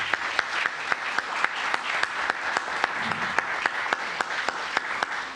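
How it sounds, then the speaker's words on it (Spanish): Warm applause from an academic audience welcoming a guest doctor at a university event, a steady patter of many hands with a few sharp, regularly spaced claps standing out close by. "a quien les pido le otorguen un caluroso aplauso."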